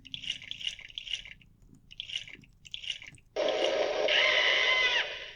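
Synthetic water effects from a video game waterfall: a run of dripping, splashy bursts, then a loud continuous rush of gushing water that cuts off near the end.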